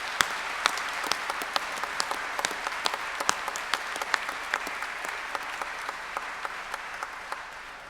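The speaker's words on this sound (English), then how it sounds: "I ask the members of the audience to applaud your accomplishments." Sustained audience applause at a Monash University graduation ceremony, an even wash of many hands clapping at moderate distance with a few sharper nearby claps standing out, no talk over it.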